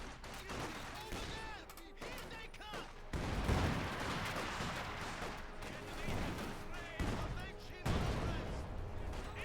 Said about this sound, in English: More artillery fire.